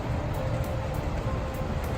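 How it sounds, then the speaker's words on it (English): Steady rain falling outdoors during a chicken-tender smoking cook, a dense even hiss of drops on surfaces, continuous and fairly close, with no voices. "So now that it's raining,"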